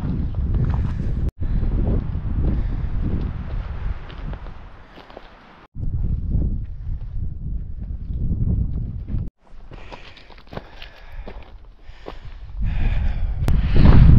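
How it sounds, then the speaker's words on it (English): Wind gusting and buffeting the microphone on a steep mountain hiking trail, a loud continuous rumbling roar with brief dropouts, with faint footsteps mixed in. "So this part is a little windier and steeper."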